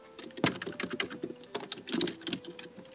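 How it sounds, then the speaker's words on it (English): Clacky keyboard typing up close, rapid irregular keystrokes with a few heavier thumps, loud and alone with no talking. "Man, you have a loud keyboard."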